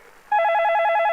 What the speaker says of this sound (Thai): โทรศัพท์มาแล้วเอ้ย